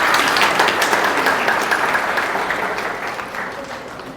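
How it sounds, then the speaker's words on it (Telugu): A crowd applauds during a health talk on millets, with dense, sustained clapping at fairly loud level that slowly tapers off over several seconds. "ఇప్పుడు చప్పట్లు కొట్టండి."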